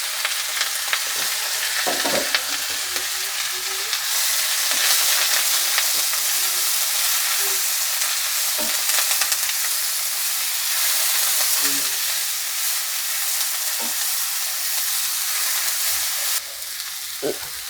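Bottle gourd leaves fry in hot oil in a wok, giving a steady, loud sizzling hiss with occasional stirring clinks and pops throughout, no voices.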